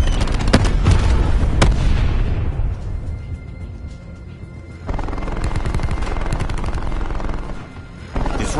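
A war machine firing in a sci-fi shooter game, loud rapid heavy gunfire in bursts, breaking off for a quieter stretch before resuming near.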